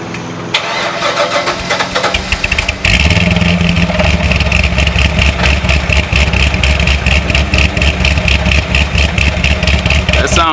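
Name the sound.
Chevrolet Corvette C6 Z06 engine idling with stock exhaust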